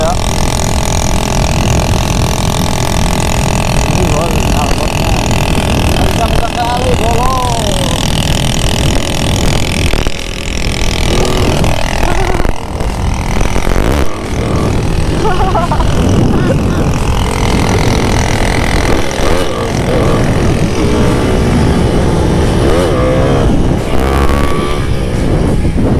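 A Honda GL100 motorcycle engine and exhaust roar steadily throughout a test ride, loud and close with wind buffeting, while people talk over it.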